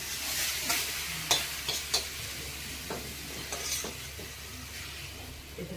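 Drumstick flowers and pumpkin flowers fry in a pan, with a soft continuous sizzle and repeated scraping stirs of a spatula against the metal, close and without talk.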